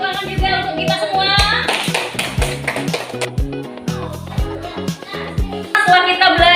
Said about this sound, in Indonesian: beri tepuk tangan juga untuk kita semua